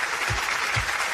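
Audience at a corporate awards ceremony applauding as a woman is invited on stage, a broad wash of steady clapping with soft low thumps beneath.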